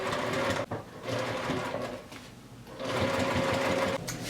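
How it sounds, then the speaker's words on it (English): A sewing machine stay-stitches along the sides of fabric bag pieces with a 1/4 inch seam allowance. Its steady, close mechanical whir runs in two bursts separated by a brief slower stretch. "I'm gonna go ahead and stay stitch along each side so that when I sew this later, it doesn't move around a lot."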